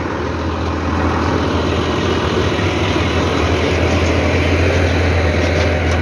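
Nearby idling of a large truck engine, a heavy, continuous low-pitched rumble holding steady and loud for several seconds without talk.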